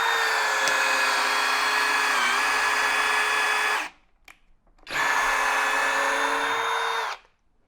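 A Kobalt 24V right-angle drill drives a 2.5-inch TimberLOK structural screw into timber in speed mode 2, with two loud, sustained whining motor runs separated by a short pause.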